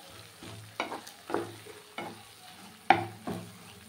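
Spice paste for doi katla being stirred as it fries in oil, rhythmic spatula scrapes about every half second over a soft, low sizzle, close and quiet.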